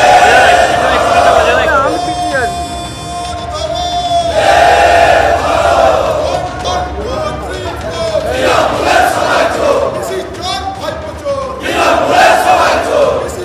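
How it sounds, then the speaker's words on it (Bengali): BJP legislators chant 'thief' slogans outside a state assembly: a loud, continuous swell of many raised voices in rhythmic group chanting that rises and falls across the whole stretch, with shouting crowd noise throughout. "তার আগের দিন চোর স্লোগান ঘিরে উত্তপ্ত হয়ে উঠল বিধানসভা"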